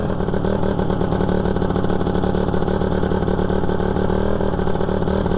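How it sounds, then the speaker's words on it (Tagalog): A motorcycle with a slipping clutch lining runs unevenly, a loud, close, continuous engine drone with a rough, sputtering pulse and no let-up. "Bumuburot-burot na naman yung ating motor, kasi yung clutch lining niya po ay medyo nag-i-slide na."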